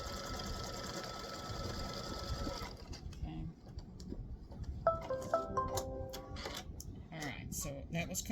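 An embroidery machine stitching a pickleball design runs with a steady mechanical whir and rapid needle ticking, then stops and shifts to lighter clicks and small beeps, with a person talking over parts of it.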